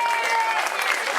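An outdoor crowd applauds the organisers at a 2016 cycling race podium ceremony, a dense burst of clapping over background noise.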